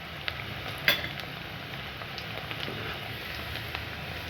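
Potatoes fry in hot oil for katori chaat, producing a faint, steady sizzle with occasional soft pops and one brief clink near the start.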